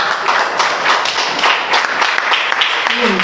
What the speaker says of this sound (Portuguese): E as palmas louvem o Senhor Jesus.